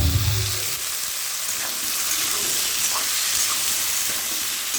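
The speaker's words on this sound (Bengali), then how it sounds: "চিংড়ি মাছটা ভাজা করে নিচ্ছি।" Shrimp sizzling in hot oil in a pan with chunks of potato and taro added, a steady close frying hiss running throughout with a brief low stir at the start.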